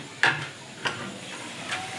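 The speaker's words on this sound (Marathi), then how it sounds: "हे वडे तळणं चालू आहे" Vadas deep-frying in oil, a constant bubbling hiss with three sharp crackling bursts spaced through it, no voices.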